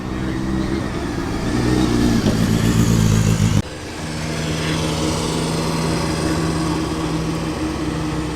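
Nissan Cherry Europe fitted with a motorcycle engine and Alfa Romeo running gear, running at a classic car evening meet, a loud close buzzing engine note that drops abruptly to a steadier idle.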